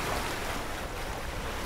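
Ocean waves in the sailing game Sailaway wash in a continuous broadband rush, steady and fairly loud, with wind-like hiss over the surge.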